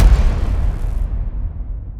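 A loud, deep explosion-style boom representing the Big Bang, a heavy low rumble with a bright burst at the start that fades over two seconds, with no voices.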